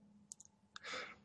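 A computer mouse clicks a few times, sharp and faint, over a quiet room hum, followed by a brief breathy rush of noise. It comes from an Android programming lesson.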